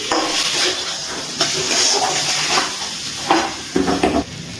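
Potatoes frying with spices in a pan, stirred with repeated scraping and soft sizzling, close and fairly loud, with irregular knocks of the utensil toward the end.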